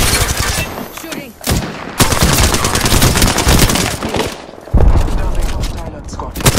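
Loud, close gunfire from the game Apex Legends rattles in rapid bursts and sharp shots, with a dense volley and a heavy blast near the end, as a voice speaks briefly amid the shooting.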